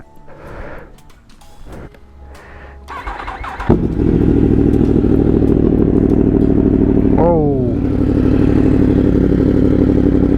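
A Yamaha R1 motorcycle engine, lowered front and rear, fires up and settles into a loud, steady rumble, with a quick rev partway through; a voice speaks briefly before it starts.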